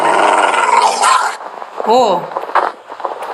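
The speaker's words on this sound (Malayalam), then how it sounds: "പട്ടി അതിനെ കൊല്ലാൻ വന്നിരിക്കുക" In the Minecraft video game, a dog or wolf growls once, close and loud, after a stretch of noisy game sound.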